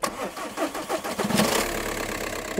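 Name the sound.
car engine starting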